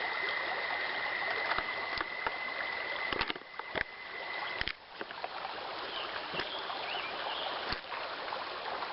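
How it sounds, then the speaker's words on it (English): A water filter pouch is filled from a stream outdoors under a steady trickling, rushing flow of water, with occasional faint clicks and handling knocks. "You fill the pouch that it comes with water, and then you filter it right through."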